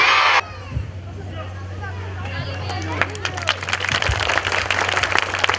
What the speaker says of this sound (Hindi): थोड़ा ताली बजाते जाओ ताकि इन लोगों को भी हौसला उजागर रहे।